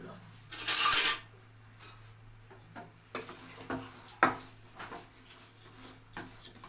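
Jaggery for a plum pickle is stirred in a pot, giving scattered scraping and clinking of a utensil against the metal, with one louder clatter near the start.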